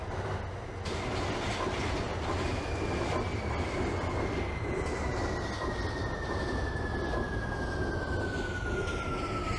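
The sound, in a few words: R46 subway train running in OpenBVE video game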